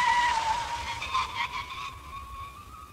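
A 1987 Mercedes-Benz with ABS brakes hard at speed, giving a loud, steady tyre squeal with a wavering high whine that gradually fades over about three seconds.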